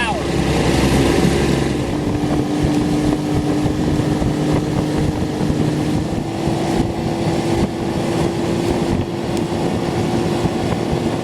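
Tohatsu 9.8 outboard motor cranked up at high throttle on a Sylvan Rodmaster fishing boat on a lake, a loud steady droning whine with wind buffeting the microphone throughout.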